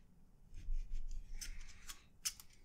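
Sharp scissors snip through the end of a piece of green paracord, giving a few crisp, close cuts over a quiet background.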